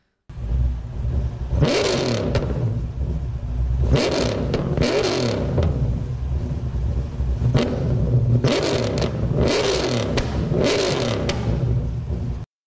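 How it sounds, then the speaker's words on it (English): A car in Gran Turismo with a swapped engine revs hard, surging up and down in repeated bursts of climbing engine roar between throttle lifts, loud and continuous with no talking. "I'm going to go to a second engine noise now, because listen to this"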